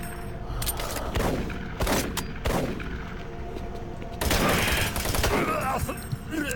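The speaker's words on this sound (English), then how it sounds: "Whoa, this guy's shooting me. Stop shooting for a second." Enemy gunfire in Doom 3 comes in repeated loud bursts of shots with sharp impacts and brief gaps between volleys.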